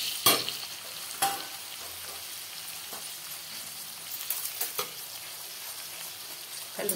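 Tomatoes and vegetables fry in a pan for a Madurai-style chapati kurma, giving a steady close sizzle with a few sharp stirring scrapes and clacks scattered through it. No one talks.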